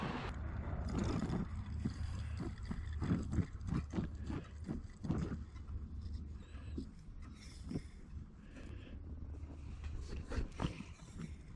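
A 1940s blow torch warms up, its fuel spitting in a run of irregular sharp pops and sputters over a steady low roar, close and moderately loud, with no talk.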